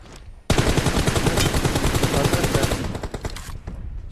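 Rapid automatic gunfire in the battle royale shooter PUBG Mobile, a loud sustained burst of shots starting abruptly and running for about three seconds before tapering into scattered shots.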